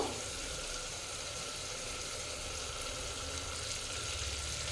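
Mutton being cooked down on high flame in a pan as it begins to stick, a steady close sizzle and hiss of frying that holds evenly throughout with no speech.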